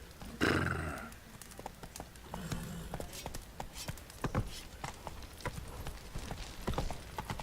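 Hooves of Geralt's horse Roach in The Witcher 3, a steady clip-clop trot on soft boggy ground, fairly close, opening with a brief snort or whinny and continuing rhythmically with faint ambient game sounds.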